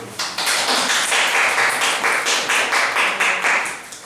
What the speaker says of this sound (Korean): 조은영 선생님 박수.